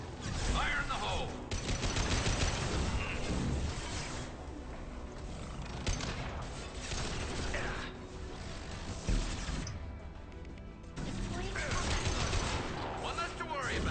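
Gunfire in Mass Effect 2 crackles as a dense, steady firefight of overlapping shots. Voices talk over the battle the whole time.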